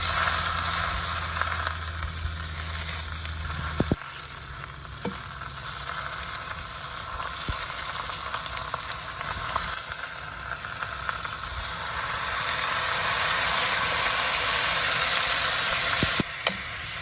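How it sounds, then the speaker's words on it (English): Cabbage braising in a scalding hot pan on a Big Green Egg grill, giving a loud, continuous sizzling hiss that stays steady throughout, with an occasional faint clink and no talking. "now it's time to braise that cabbage"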